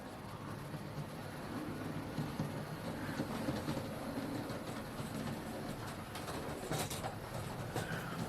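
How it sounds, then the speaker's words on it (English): A small Hornby Sentinel 0-4-0 shunter model train pulling tanker wagons rumbles and clicks steadily along its track, fairly quiet, with faint birdsong in the background. "We'll zoom right out so we can see the train going around."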